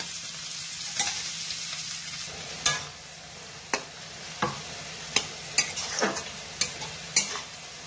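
Peas go into a frying pan and sizzle softly while a metal spoon stirs, scraping and clinking against the pan in sharp, irregular knocks about once a second.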